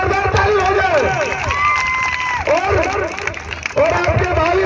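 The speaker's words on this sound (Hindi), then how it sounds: "एक बार अमित जी के लिए जोरदार ताली हो जाए।" A crowd at a kabaddi tournament inauguration in a village claps and cheers, with shouts and whistles rising over a loud public-address voice and general hubbub.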